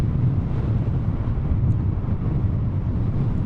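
Low, steady wind buffeting on the microphone while riding a Super Soco TC electric motorcycle uphill into a headwind, a continuous rumbling roar with no other sounds.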